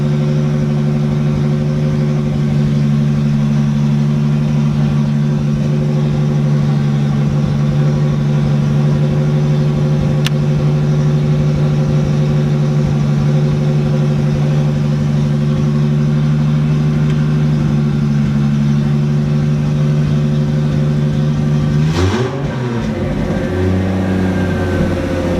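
A Nissan 280Z fitted with an RB25 engine idles close and loud in a steady, even drone, then gives one short rev near the end before settling again.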